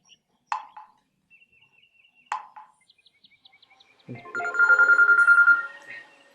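A telephone ringtone at a school Christmas celebration performance: a few sharp knocks and faint chirps, then a loud, warbling electronic ring pulses near the end.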